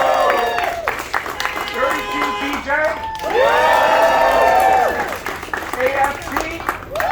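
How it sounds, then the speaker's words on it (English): A union rally crowd in Great Neck, outside a Starbucks, cheers and applauds, with sustained clapping and rising whoops and shouts swelling and fading across the clip while an amplified voice speaks over it. "Please give a shout out and a cheer."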